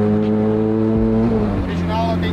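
A Ferrari engine of 490 horsepower with its factory sports exhaust rumbles loudly and close, a deep steady idle tone that shifts pitch as it revs, with people talking over it.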